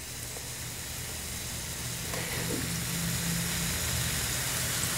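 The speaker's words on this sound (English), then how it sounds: "We're going to let this beef brown on all sides" Beef browns in a hot pan with a steady, even sizzle and hiss, close and moderately loud, holding constant throughout with a slight swell partway through and no speech.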